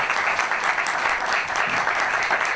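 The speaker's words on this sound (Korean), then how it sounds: "우리 세 분에게 감사의 뜻을 박수로" Audience applause at the close of a Calvin academic seminar, brisk steady clapping from a seated crowd filling the short moment without any voices.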